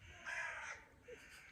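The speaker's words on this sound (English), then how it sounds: "You might hear birds around" Crows caw once or twice in a playground, a short harsh call standing out against faint outdoor background noise.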